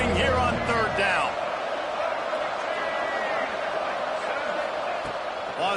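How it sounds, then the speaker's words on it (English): A Boise State home crowd roars on third down in a college football video game, a loud, sustained wall of noise under a commentator's voice throughout. "This Boise State crowd bringing the noise. It's deafening here on 3rd down."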